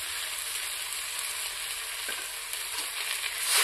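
A paste of ground nuts and mustard sizzles hard in a pan of spiced tomato for a Bengali small-fish curry, a loud continuous hiss that swells toward the end with no talk over it.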